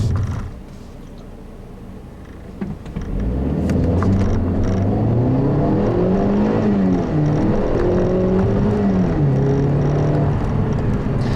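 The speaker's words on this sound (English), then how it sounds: "I'm happy to say the 250 actually accelerates pretty well" A 2015 Mercedes-Benz CLA250 accelerates hard, its engine swelling from a quiet idle into a loud, steady drone whose pitch climbs and dips through gear changes, heard from inside the car.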